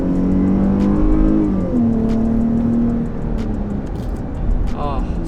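Jeep Grand Cherokee with an aftermarket exhaust being floored, a loud close engine roar rising in pitch as it accelerates, then easing off into a steady drone with voices faintly over it.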